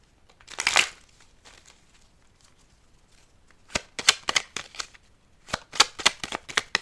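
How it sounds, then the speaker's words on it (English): Tarot cards shuffled by hand: a crinkly riffle burst near the start, then a quiet stretch, then several sharp rapid card-slap and riffle bursts close up, with no talking. "I'm going to go ahead and shuffle these a little bit better here."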